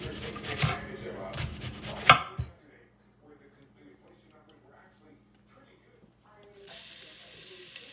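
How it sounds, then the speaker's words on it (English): A knife cross chops food on a board in a quick run of rhythmic knocks, close and fairly loud, then breaks off to near silence before more kitchen noise returns. "And then cross chop."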